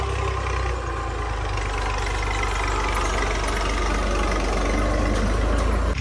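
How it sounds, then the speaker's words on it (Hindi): A tractor's heavy engine rumbles steadily at a constant pace while ploughing a field, loud and near, with no voices over it. "ट्रैक्टर यहाँ पे जो है ना हल चला आ रहे हैं"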